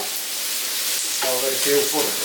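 Onions sautéing with a pinch of salt in a pan give a steady near hiss and sizzle, with a voice speaking over the latter part.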